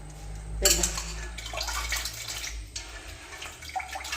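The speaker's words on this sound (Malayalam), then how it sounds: "കുറച്ച് പാത്രങ്ങളുണ്ട് കഴുകി വയ്ക്കാം" Dishes are washed under a running kitchen tap, with water gushing and plates and utensils clinking near the mic in uneven bursts over a low background hum.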